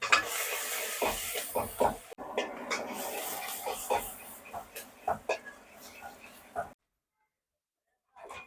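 Onion and tomato fry in a pan with a soft, steady sizzle, broken by frequent scraping strokes of a stirring spoon, while a voice talks over it; the sound stops abruptly near the end.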